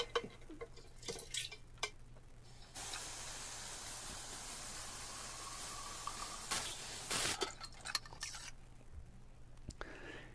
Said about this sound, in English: Pour the mixture into a large pitcher and add a considerable amount of water.